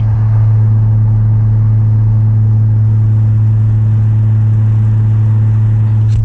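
Steady low drone of a BMW E30 engine cruising at about 70 mph just over 2,000 RPM, heard from inside the car as a constant rumble with road and wind noise, unbroken and fairly loud.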